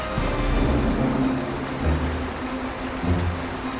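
Steady rain pours in an animated cartoon while low thunder rumbles underneath, a loud, dense wash of falling water with heavy booming swells and no speech.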